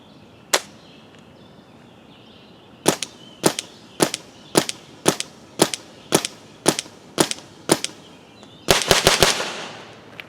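Emek MG100 magfed paintball marker firing sharp, close shots: one lone shot, then about a dozen evenly spaced single shots, ending in a rapid burst of four or five.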